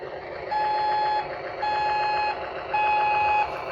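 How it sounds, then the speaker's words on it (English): Three steady electronic beeps from a toy truck's reversing warning, each held for under a second with short gaps between, a shrill reversing alarm sounding alone. "So there's very specific timing to the backup warning."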